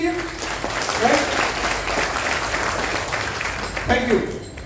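An audience claps in steady, moderately loud applause at a health lecture on Kangen water, a continuous patter of many hands with a few voices briefly audible over it.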